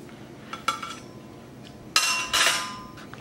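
A cooked beef patty is lifted out of a pan and set on a plate, with light metallic scrapes and clinks of utensil against pan and a louder clatter as it lands on the dish.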